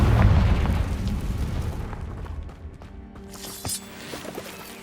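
A Confringo blasting spell explodes in Hogwarts Legacy, a loud booming burst right at the start that rolls off and fades over several seconds into quieter game ambience.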